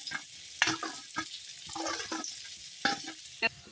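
Quiet crackling and popping of potatoes frying in a pan, broken by several sharper scrapes and clicks of stirring, with no voices.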